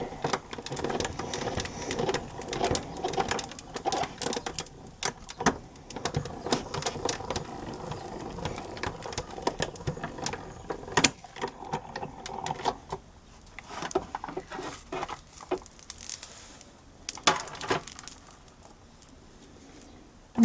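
A paper card plate is cranked through a manual embossing machine for a lantern-themed card, giving a steady rolling, crunching mechanical sound that lasts throughout with a few sharper clicks and thinner stretches near the end.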